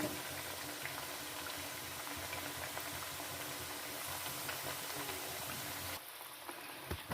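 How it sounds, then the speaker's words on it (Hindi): Sweet tikiyan fry in hot cooking oil in a pan, giving a steady, dense bubbling sizzle that holds unbroken and close, then eases slightly near the end. "इसमें कुकिंग ऑयल को हमने गरम कर लिया था और इसमें हमने डाल दिए और इसको हम फ्राई कर लेंगे"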